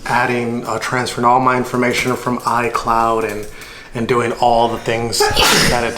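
A single quick sneeze bursts out near the end, just after a stretch of close, steady talking by a person setting up a new laptop.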